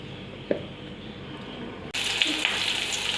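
Onion and garlic hit hot Milma ghee in a pan with a sharp burst, then a steady loud sizzle and crackle of frying continues alone, close to the microphone.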